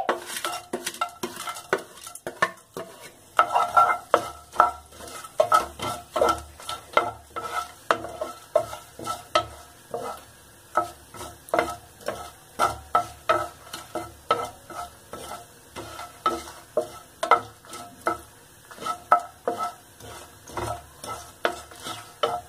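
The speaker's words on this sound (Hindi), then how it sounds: "हमारा घी गर्म हो गया है, अब इसमें खड़े मसाले डालेंगे।" Whole spices frying in hot ghee for shahi paneer, a spoon repeatedly scraping and clinking against the pan over a soft sizzle, close and rhythmic throughout.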